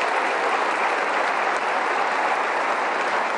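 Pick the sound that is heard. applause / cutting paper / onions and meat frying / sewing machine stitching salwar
applause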